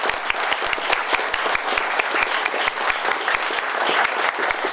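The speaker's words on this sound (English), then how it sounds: "give them one more round of applause before they head out" Dense, steady applause from an audience thanking legislators at a legislative forum, with many hands clapping close by and evenly throughout, without any voices rising above it.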